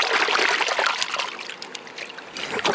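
Water trickles and splashes steadily over a freshly gutted fish being rinsed of blood outdoors by the sea, a continuous close dribbling wash that eases slightly midway.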